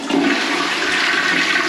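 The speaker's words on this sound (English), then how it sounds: "So if we flush it, it will replicate it." A toilet flushes loudly and close by, a steady rushing surge of water sustained throughout, in a home being checked for a hidden water leak under the floorboards.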